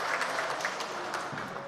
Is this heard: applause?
yes